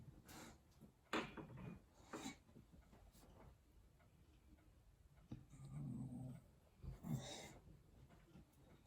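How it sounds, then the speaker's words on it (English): A pet dog indoors whines and makes small restless noises while wanting to go out, intermittent and close over a quiet room with light ticking sounds, no talking. "I think my dog wants to go out."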